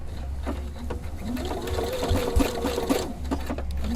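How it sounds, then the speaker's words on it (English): Sewing machine couching yarn with a 3-hole yarn foot, a steady mechanical whir with rapid needle ticks running throughout, close and fairly loud, with no talking. "I'm going to start stitching."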